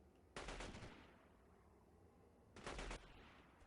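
Gunfire in the video game Delta Force 2: two short, loud bursts of rapid automatic shots separated by a pause of about two seconds, each burst sharp and crackling over a quiet background.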